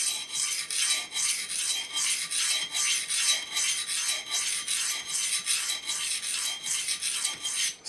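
A knife blade is drawn over a coarse DMT diamond stone in a steady series of quiet, even rasping strokes, each scrape close and gritty with a regular back-and-forth rhythm.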